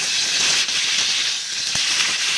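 Rohu fish heads sizzle steadily in a hot pan as they are turned over, a close, continuous bright hiss with one brief knock from the flip partway through.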